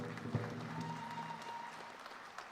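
Applause rises at a college commencement ceremony, a broad steady wash of clapping from the gathered crowd that holds at an even level and fades slightly toward the end, with a faint voice briefly audible underneath.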